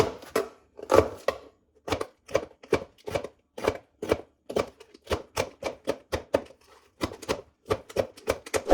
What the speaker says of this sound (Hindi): अब ये गाजर काट लेंगे इसी तरह। यहाँ पे शिमला मिर्च भी वैसे ही काट लेंगे।